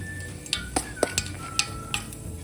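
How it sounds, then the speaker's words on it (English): Mustard and fenugreek seeds hit hot oil in a pan, giving a soft sizzle under a series of sharp clinks and scrapes from a utensil, about six distinct taps spaced across a few seconds, close by. "When the oil is hot, add 1/4 teaspoon of mustard seeds, 1/4 teaspoon of fenugreek seeds."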